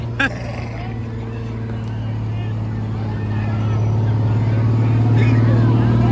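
A Detroit diesel engine in a fire engine idles and rumbles steadily nearby at a firefighters parade, its low drone slowly growing louder, while people chat in the background.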